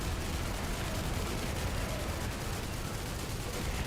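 Continuous heavy gunfire from a weapon in The First Descendant shooter game, a dense, loud unbroken barrage of rapid shots sustained throughout.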